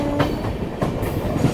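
The Poorva Superfast Express rolls along the rails in a 2nd AC coach, a steady loud rumble with rhythmic clicks from the wheels.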